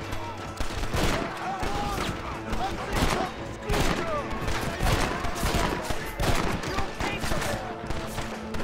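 Repeated gunfire in a Red Dead Redemption shootout, sharp shots at an irregular steady pace with several overlapping volleys, loud and close, with voices talking over the shooting.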